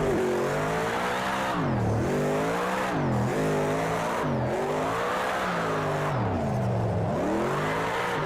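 A race car in Project CARS 2 fitted with a drift mod lapping a track, its engine revving up and dropping repeatedly through gear changes, loud, close and steady with no talking.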